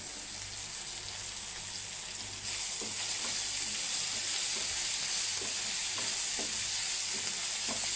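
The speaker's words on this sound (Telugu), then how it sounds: "అలా కలుపుకుంటూ ఫ్రై చేసుకోవాలి" Loud, steady sizzle of brinjal and onion curry frying in a pan, with soft scraping stirs repeating under the hiss, close and continuous, growing slightly louder partway through.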